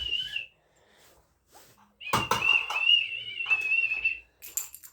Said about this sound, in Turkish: düdüğüm var